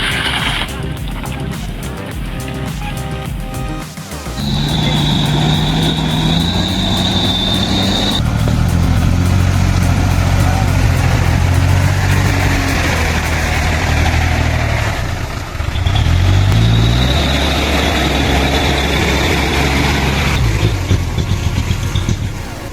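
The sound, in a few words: truck engine roaring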